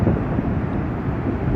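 A tornado in Moore, Oklahoma roars in the distance like a far-off jet engine, a continuous, loud, broadband rumble mixed with wind buffeting the microphone.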